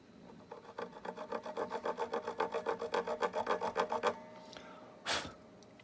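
A file rasps back and forth in a string slot of a Telecaster American Custom Shop guitar nut, about twenty quick, even strokes close up, then stops, followed by a brief louder scrape.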